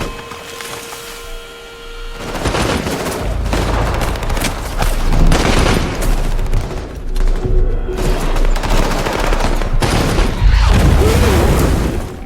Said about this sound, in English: American soldiers open fire.